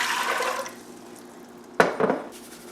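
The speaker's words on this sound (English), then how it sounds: "I'm going to add some water" Water poured into a pressure cooker holding rinsed beans: a short splashing pour at first, then a pause and a couple of sharp clanks from the pot.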